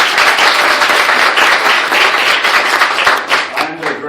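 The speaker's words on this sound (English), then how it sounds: "So let me invite applause for them." A crowd applauds with loud, dense clapping that carries on steadily and then begins to thin out toward the end.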